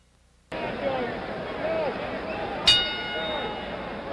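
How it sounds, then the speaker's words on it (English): At a 1977 heavyweight boxing match between Foreman and Young, the ring bell gives one sharp metallic ding for round two. It rings out over steady arena crowd noise and commentary, which begins just before it. "The bell for round two."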